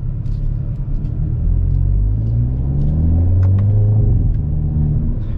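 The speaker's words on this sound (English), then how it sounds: "This Kona N is powered by a 2-liter turbocharged inline 4-cylinder engine, 276 horsepower, and that's mated to a 8-speed dual clutch automatic transmission." A 2022 Hyundai Kona N's 2-liter turbocharged inline four with an 8-speed dual-clutch automatic drones steadily on a race track, its loud, close engine note rising in pitch as it accelerates.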